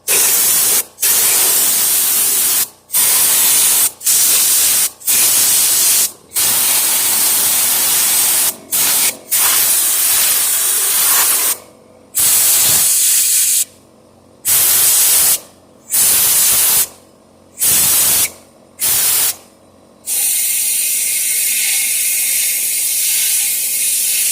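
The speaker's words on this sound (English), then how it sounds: "I'm going to go ahead and now pump it all out with some air" Compressed air blasts loudly through a straightened part at a scrapyard, a harsh broadband hiss in repeated bursts with sharp cutoffs, the later ones shorter and more evenly spaced, no voices.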